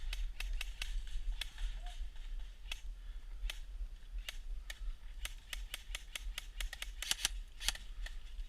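Airsoft guns snap off rapid, sharp shots in an outdoor field skirmish among trees, some single pops and some quick bursts, mostly at mid distance over a steady low rumble.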